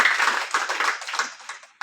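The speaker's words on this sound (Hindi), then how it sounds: "सबसे पहले जोरदार तालियां राजेंद्र जी के लिए।" A crowd applauds at a school honour ceremony at Gopal Vidya Mandir, giving a dense, steady patter of many hands clapping together that holds for under two seconds before cutting off abruptly.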